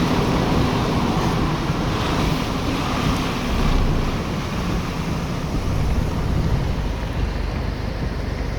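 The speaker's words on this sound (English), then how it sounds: "Wow, there is a rushing creek." After a flood near Hope, British Columbia, a swollen creek rushes loudly and without a break, its dense, steady roar filling the whole stretch with no voices.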